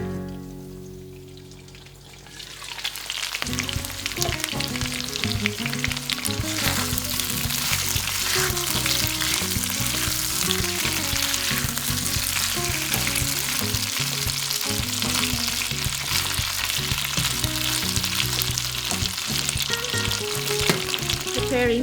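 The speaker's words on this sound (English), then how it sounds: "Fry the potatoes until half done." Potatoes fry in a pan of hot oil for a Bengali bata fish curry: after a quiet start, a steady, crackling sizzle sets in and continues evenly, close and clear, with no talk.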